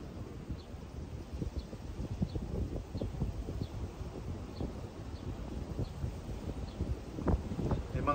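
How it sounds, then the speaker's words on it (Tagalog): Strong seaside wind on a tropical Philippine coast buffets the microphone in a continuous low rumble with gusty surges throughout, with faint rhythmic ticking above and a louder gust near the end. "Dahil mas sobrang lakas ng hangin."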